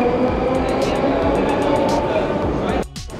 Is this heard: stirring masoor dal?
no